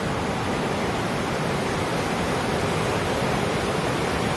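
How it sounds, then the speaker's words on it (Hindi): A clear river rushing through a valley near Gorubathan in Kalimpong, a steady loud broadband roar of flowing water with no talk over it. "आवाज सुनी दोस्तों नदी का है"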